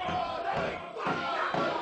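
A wrestling crowd chants and cheers for Willie Mack in a singles match, loud and close, with rhythmic shouted pulses rising and falling about twice a second.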